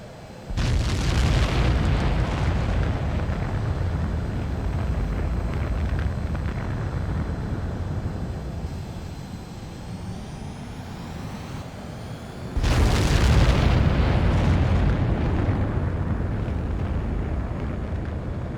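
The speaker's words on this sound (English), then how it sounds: "H2, begin takeoff sequence. You're cleared for launch." Fighter jet taking off in Ace Combat 7, a loud roaring engine blast that builds into a sustained thundering rush, eases slightly, then surges again in a second burst of afterburner roar.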